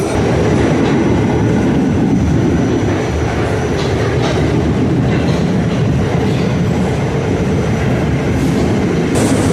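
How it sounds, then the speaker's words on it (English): Continuous rumbling of a 1970s R44 subway car with a faint high squeal of brakes straining over the steady roar, loud and close throughout. "You could hear the train's brakes, like, struggling."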